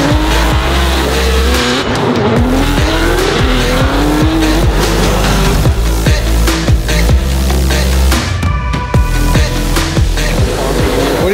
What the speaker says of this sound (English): We're gonna go up into the stands, watch him do his first lap, hope he doesn't crash the car.